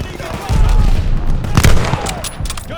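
Machine gun fire in Call of Duty Vanguard on PS5, aimed at a half-track, comes as loud, close, rapid bursts of shots that repeat over a steady bed of battle noise.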